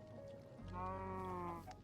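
A single drawn-out pig squeal from Stoneblock 3, a Minecraft modpack: one wavering, nasal call of about a second, quiet and close, with no other sounds around it.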